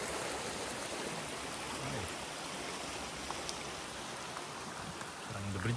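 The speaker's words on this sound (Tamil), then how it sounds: "இங்கே தான் அந்த தண்ணி ஓடுது." A steady, broadband rush of stream water flowing near the Bridal Veil waterfall in New Zealand, a continuous even wash of moving water heard at moderate distance with no talking.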